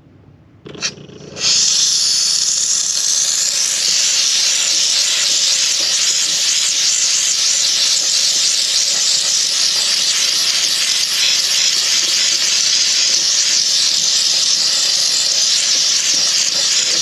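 A steam cleaner is used for scrubbing. After a few brief clicks and a short burst, it settles into a loud, continuous broadband hiss of escaping steam that holds steady and close for the rest of the clip.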